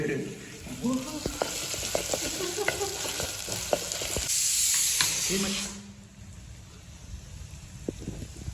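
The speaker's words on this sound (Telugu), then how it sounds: "ఈ మట్టి పాత్రలో తాలింపు వేస్తే భలే ఉంటుందండి" Tempering spices crackle and spit in hot oil inside a clay pot, with scattered sharp pops over a busy sizzle, loud at first and then fading to a faint hiss; quiet voices murmur in the background.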